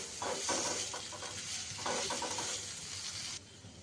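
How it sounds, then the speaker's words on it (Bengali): Spice masala stirred and fried in a pan for egg chops, soft scraping strokes of a spoon in bursts over a quiet, steady sizzle. "একটু নেড়ে চেড়ে আমার মশলাটা কষে গেছে"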